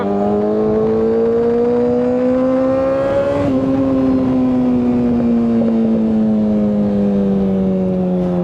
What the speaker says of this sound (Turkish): şöyle biraz egzoz sesi